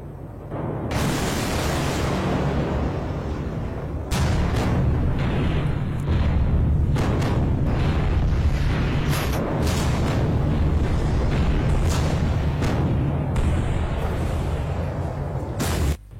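A massive explosion, with the force of a magnitude 3.3 earthquake, roars with a sustained deep rumble, followed by repeated booming bursts and crashing debris, loud and continuous throughout.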